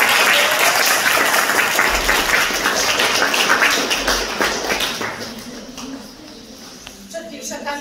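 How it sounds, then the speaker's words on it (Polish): Applause fills a school-year opening ceremony, a crowd of children and parents clapping loudly and steadily before the clapping thins and fades toward the end. "Dobrze, brawa, słuchajcie"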